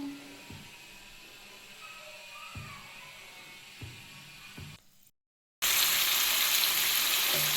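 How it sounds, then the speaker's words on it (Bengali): Mustard oil heating in a wok for a chicken curry: a quiet stretch with a few soft knocks, a brief cutout, then a sudden loud, steady, close sizzle. "আমি কড়াই তেল দিয়ে দিয়েছি সর্ষের তেল তেলটা গরম হোক"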